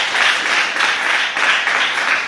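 Loud, continuous clapping from a church congregation, many hands close by in a steady pulsing rhythm that carries through without a break.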